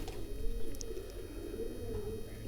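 Pet pigeons coo in soft, repeated low calls close by, a few faint chirps mixed in over a steady background hum, with no talking.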